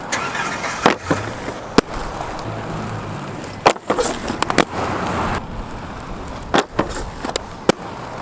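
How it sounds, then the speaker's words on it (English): Aggressive inline skates sole-grinding on a practice rail, heard as a steady scraping rasp broken by several sharp clacks and landing impacts, with a loud continuous grind running through most of the stretch and no talking. "All right, let's go, sole grind."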